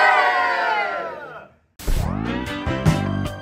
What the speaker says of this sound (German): Könnt ihr vielleicht auch noch kurz jubeln?